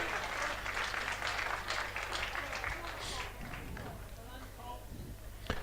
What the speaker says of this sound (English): Lee Togwell getting a huge round of applause as he comes off here this afternoon.